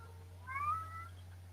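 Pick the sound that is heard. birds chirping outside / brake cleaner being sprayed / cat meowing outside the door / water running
cat meowing outside the door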